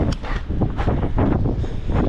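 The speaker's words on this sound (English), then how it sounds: "Sorry if you can hear the wind in the background there." Strong wind gusting outdoors at a shop during a wind advisory with gusts of 50 to 55 mph, battering the microphone with a loud, continuous roaring rumble that swells and dips throughout.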